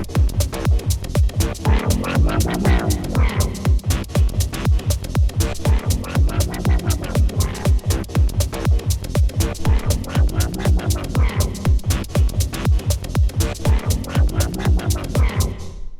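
A deep, throbbing sampled bass line made in Ableton Live pulses in a steady rhythmic groove, looping continuously and loudly without any voices.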